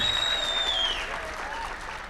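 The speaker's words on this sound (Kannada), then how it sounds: "ಜೋರ್ ಚಪ್ಪಾಳೆ ಬರಬೇಕು ನಮ್ಮ ರಘುಗೋಸ್ಕರ" Applause rises from the audience at a film title teaser release event for the Kannada movie Pinaka, a fairly faint, brief burst of clapping after a high whine fades.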